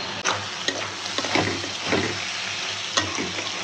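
Bitter gourd fries in hot oil with a dense, loud sizzle, punctuated by several sharp clicks and scrapes of a spatula stirring in the pan, close by.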